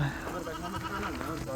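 Goats bleat among many goats and cattle at a tribal ceremony in Omo Valley, Ethiopia, a few wavering calls heard under nearby people talking.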